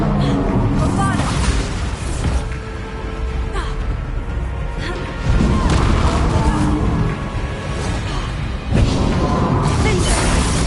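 Bombarda spell explosions in the Hogwarts Legacy game, repeated heavy booms bursting over a rumbling battle background, with a voice speaking between them.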